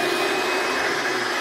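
An upright vacuum cleaner running on carpet in a housekeeping demonstration, a loud steady whirring roar that holds constant throughout with no talk.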